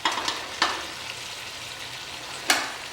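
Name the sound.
Kadaknath chicken curry frying in pan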